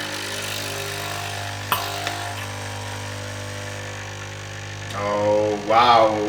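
A Nespresso Essenza Mini C30 capsule machine brews an espresso with a steady, fairly loud pump hum and buzz. There is a sharp click early on, and a voice speaks briefly near the end.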